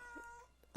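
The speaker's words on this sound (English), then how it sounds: "that was my cat." A cat gives a single short, loud meow at the very end, after a stretch of quiet background with faint sustained tones.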